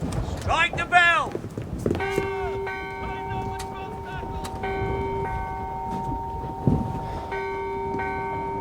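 A ship's bell aboard a sailing warship is struck repeatedly at a steady pace, ringing with a sustained metallic tone amid shouted commands and busy deck noise.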